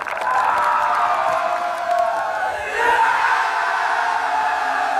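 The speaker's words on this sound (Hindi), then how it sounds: "फिर तालियों का एक तूफान उमड़ पड़ा" A large outdoor crowd on a field bursts into loud applause and cheering, a dense roar of clapping with whoops and shouts that dips briefly midway and then swells again.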